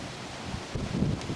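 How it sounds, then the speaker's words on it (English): Wind blows outdoors on an overcast day, a steady broadband rush buffeting the microphone with a gust swelling near the end. "As you can see, it's windy."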